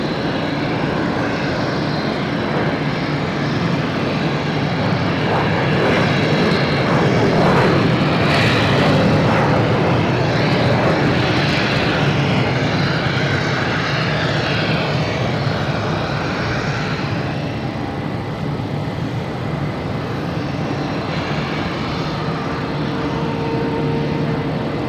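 A Delta Embraer E175 jet airliner at Boston Logan International Airport, heard as a loud, steady engine roar that swells slightly near the middle and carries on continuously, with no talking.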